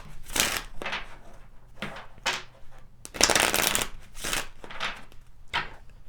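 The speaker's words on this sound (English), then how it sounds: "Let's pull some additional cards here." Tarot cards being shuffled by hand in a series of crisp riffling bursts, close and fairly loud, about six quick rounds with short pauses between them and no talking.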